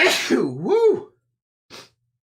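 A single close, loud sneeze bursts out sharply and quickly trails off, followed after a short silence by a brief breathy sniff.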